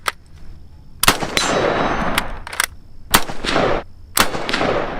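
Loud added gunshot effects for a dry-fired K98 bolt-action rifle: four sharp cracks spaced about a second apart, each trailing into a bright ringing decay, with no talking.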